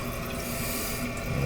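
Water rushing steadily from an old Cola toilet tank with three tank bolts during a flush, a broadband, continuous close wash of water that holds level throughout.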